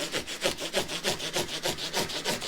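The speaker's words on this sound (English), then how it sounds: "I'm doing some final sanding to my new Trekkie number 10 build" Rhythmic back-and-forth sanding on a wooden guitar body, quick regular strokes close to the microphone, with no talking.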